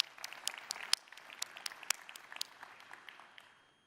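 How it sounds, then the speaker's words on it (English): Sparse, scattered clapping from a launch-event audience at a Xiaomi smart-wearables product launch, individual claps standing out before thinning and fading away. "give a hand of applause"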